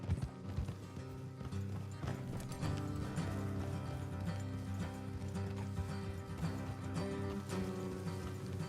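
Horses' hooves galloping in the video game Red Dead Redemption 2, a steady quick clip-clop rhythm over a bed of game music and ambience, moderately quiet with no talking.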